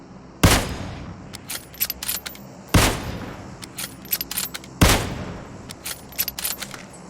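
PUBG Mobile gunfire on the Erangel map: three loud, sharp shots spaced about two seconds apart, each trailed by a rattle of fainter distant shots and clicks.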